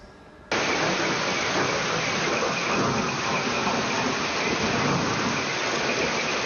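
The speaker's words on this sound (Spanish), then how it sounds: "Así fue la fuerte tormenta eléctrica que cayó la madrugada de este viernes en Quito" Heavy rain pours down during a strong electrical storm over Quito in the early morning, starting abruptly and continuing as a loud, dense, steady roar that blends with rumbling thunder.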